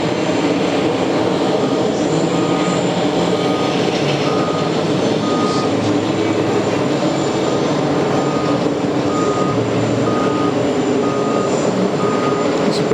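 A JetBlue Airbus A320 jet landing on runway 22 Left at JFK after a flight from Houston, heard as a steady, loud broadband roar across the whole stretch, with a faint repeated beeping running underneath.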